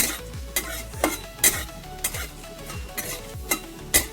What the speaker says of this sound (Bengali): শুকনো লঙ্কাটাকে একটু ভালো করে ভেজে নিচ্ছি